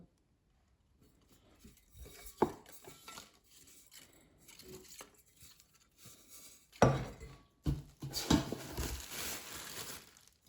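Stainless steel saucepans and lids clank and scrape as they are handled, with several sharper knocks and a burst of rattling near the end.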